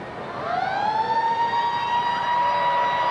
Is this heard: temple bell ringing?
no